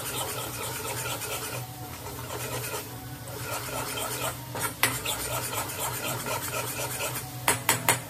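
Chicken masala is stirred and roasted in a pan, a utensil scraping and clinking steadily against the metal with a faint sizzle underneath, quiet and close, with a few louder taps near the end.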